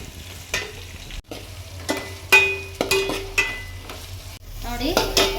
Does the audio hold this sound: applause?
no